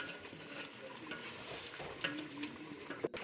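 Yogurt, chilli and garam masala being stirred into beef pulao in a pot, a steady soft scraping and sizzling with a few light clinks of the spoon against metal, close and continuous with no talking.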